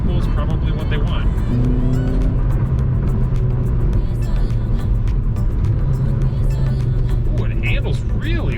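A 9th generation Honda Civic Si sedan on the move, heard from inside as a steady low engine and road rumble that holds through the whole stretch, with occasional voices over it.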